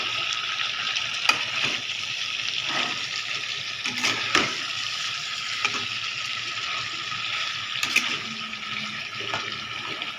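Bay leaves, green chili and spice powder fry in a pan with paneer and pointed gourd, a steady hissing sizzle with occasional soft clicks of a spoon stirring, moderately close and even throughout.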